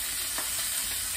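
Pork chops frying in a pan at home, a steady close sizzle with faint crackle and a soft clink or stir partway through, no voices.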